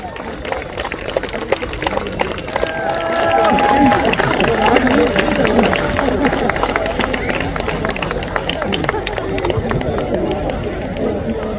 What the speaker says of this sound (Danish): Mine damer og herrer, lad os lige klappe for Copenhagen Mellerholdet.